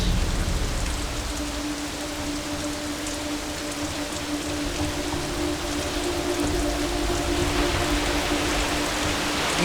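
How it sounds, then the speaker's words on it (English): Heavy rain pours down in a dense, steady hiss of drops striking surfaces, loud and continuous throughout with a faint tonal hum beneath and no voices. "it just poured down rain"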